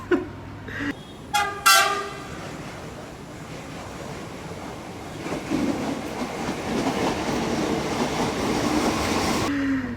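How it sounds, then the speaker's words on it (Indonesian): A new Chinese-built CRRC Sifang KRL commuter train sounds several short, shrill horn blasts up close, followed by the rising rumble and rush of the train moving along the track. "Cuma klakson bikin gue kaget berkali-kali"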